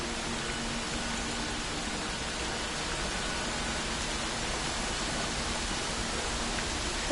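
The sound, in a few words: white noise ambience in the video game Dear Esther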